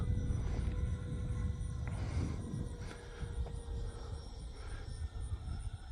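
An E-flite Viper 70mm electric ducted-fan RC jet takes off on a sunny day, a steady loud rushing whine with broadband roar, continuous and fairly close throughout.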